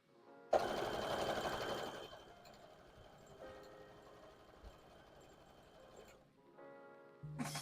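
A sewing machine runs straight stitches nearby, its steady rapid mechanical whir rising, slowing and then stopping after several seconds, with a brief clunk at the end.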